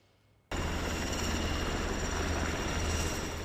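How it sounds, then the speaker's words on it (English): Low-flying Black Hawk helicopters cut in suddenly after a brief quiet moment, a loud, dense rotor and turbine roar with a steady low thump that holds strongly throughout. "Black Hawk helicopters flew low above Hazeldale Parkway"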